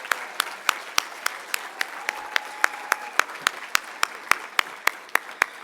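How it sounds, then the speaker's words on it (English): Gala audience applause, sparse and steady, with distinct close claps landing in a regular rhythm over a soft background of further clapping. "So give her a grand round of applause."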